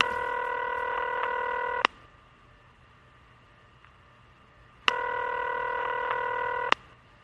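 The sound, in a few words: telephone number being dialed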